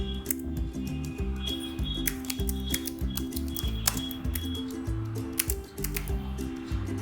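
Keywords being typed on a computer keyboard, a steady stream of close, crisp key clicks in an irregular patter that runs through the whole stretch under a tonal, music-like background, with no voices.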